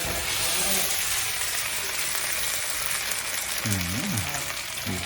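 Spicy field rat stir-fries in boiling oil with a dense, steady close sizzle that never lets up; a brief voice cuts in near the end.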